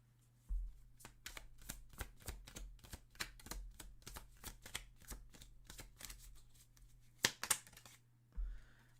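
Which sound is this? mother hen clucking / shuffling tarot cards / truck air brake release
shuffling tarot cards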